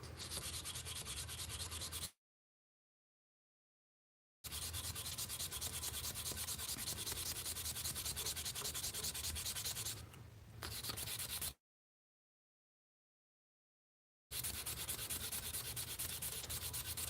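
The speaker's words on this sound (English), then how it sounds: "this is a 3M professional wet dry sandpaper" Desert ironwood being hand-sanded with 3M professional wet dry sandpaper, a steady close rasping rub in long strokes broken by two pauses of silence.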